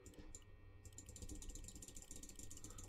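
A broken clock in the video game Tick Tock gives off quiet, rapid mechanical ticking and clicking, a faint ratchet-like patter running steadily throughout.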